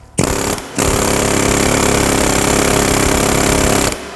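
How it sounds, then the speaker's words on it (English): A pneumatic air hammer starts with a short burst, pauses briefly, then hammers loudly and continuously at close range for several seconds before stopping. "I was using my air hammer"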